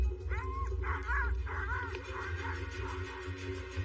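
Sled dogs bark and yip eagerly just before a dog sled run in the Alaskan wilderness, several sharp calls in quick succession nearby, with whimpering in between and no talk.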